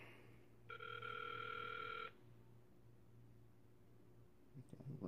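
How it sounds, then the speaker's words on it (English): An iPhone 6s Plus call placed through a synced smartwatch gives a single short electronic ringback burst, faint and clean over a low steady hum, with a small click near the end. "Okay, ringing."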